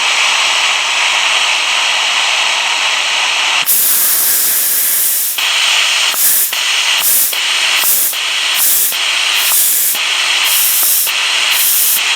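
Loud, steady hiss of compressed air venting from a Velvac air PTO valve, then broken into a series of rapid on-off bursts as the flow is interrupted repeatedly.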